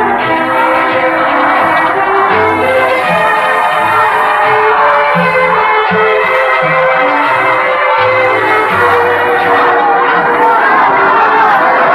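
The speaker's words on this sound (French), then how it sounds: "La foule est toujours aussi dense, aussi enthousiaste, et se bouscule pour voir et applaudir l'hôte de la nation." A dense, enthusiastic crowd cheering and applauding General de Gaulle during his 1966 visit to Cambodia, a loud, continuous roar of voices and clapping throughout with a low rumble beneath.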